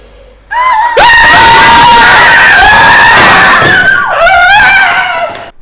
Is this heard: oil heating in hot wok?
no